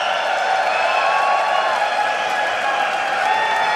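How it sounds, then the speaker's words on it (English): Stage crowd at a League of Legends esports match fills the space with a dense, continuous wash of applause and cheering, steady and loud throughout with no pauses. "And the crowd having an applause for you, Vander, here"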